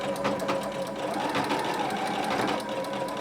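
A sewing machine runs a blind hem along the fold of dress pants, giving a steady, close, continuous mechanical whir with a fast, even needle rhythm throughout.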